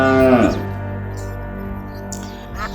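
A cow gives one loud, deep moo at the start, fading into a quiet background with a faint higher call near the end.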